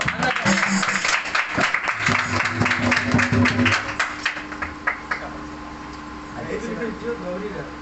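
An audience at a PYPA meeting claps: a dense burst of close applause for the first four seconds, thinning into scattered claps. Murmuring voices and a microphone hum carry on afterward.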